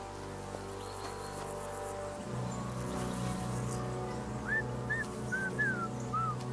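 A dog in Kingdom Come: Deliverance II gives several short, high whines and whimpers in quick succession over a quiet outdoor game ambience with faint background tones, the whimpers coming in the second half.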